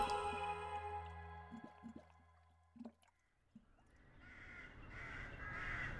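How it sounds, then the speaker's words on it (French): A rook, a member of the crow family, gives several harsh caws in the first three seconds, clear and fairly close, and then goes quiet while a soft background hiss carries on. "Je suis un corbeau, le corbeau-freux."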